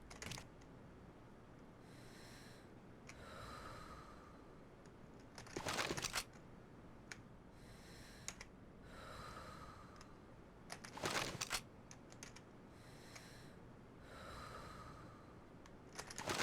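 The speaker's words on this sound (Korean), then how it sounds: "줌인 사운드 한번 들어볼게요 줌인 사운드" Zoom-in scope breathing in the online shooter Sudden Attack: soft, quiet breaths repeat in a slow rhythm across the clip, broken by a few sharper bursts of mechanical scope noise, with no talking.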